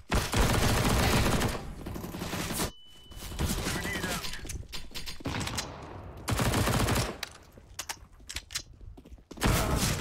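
Bursts of rapid gunfire from a CS:GO match, loud and clustered in several rattling volleys separated by brief quieter gaps.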